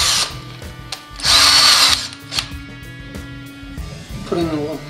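A power drill boring a hole into wood and PVC for a disc golf stool: a loud, close high-pitched whine bursts for under a second, with shorter motor blips and someone talking around it.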